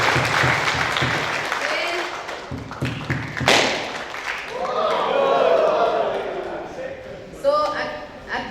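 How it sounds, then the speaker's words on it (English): A safety day audience at a construction project event claps for themselves, scattered claps and thumps rising into a short burst of applause amid talking and crowd noise, then fading. "Clap for yourself nicely."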